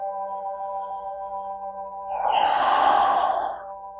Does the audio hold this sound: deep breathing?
yes